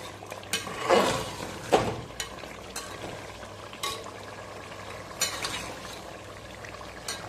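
Chicken karahi masala being stirred and browned in a pan, with soft sizzling under repeated scrapes and clinks of a spoon against the metal, a few louder strokes standing out from the steady background hiss.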